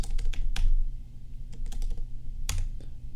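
Clicky keys on a computer keyboard tapped in short irregular bursts while writing React styling code, close and clear with brief pauses between clusters of keystrokes.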